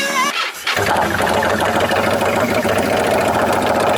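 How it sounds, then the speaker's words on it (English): A 2000 Yamaha XVS1100 motorcycle engine cranks on choke and catches after a brief pause, then settles into a loud, steady running rumble. "Let's pull the choke on, give her a start."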